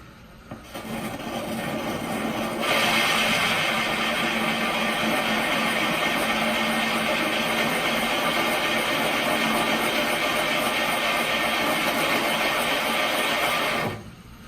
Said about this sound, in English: I'm going to just begin drilling and see what happens here